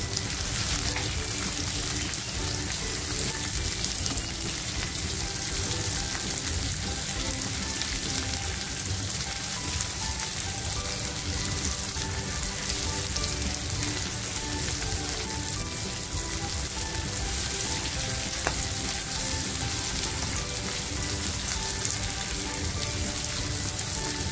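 Onion and unsoaked cashews frying in a pan for an egg masala, a constant hissing sizzle like steady rain that holds evenly and fairly faint for the whole stretch, with no voices.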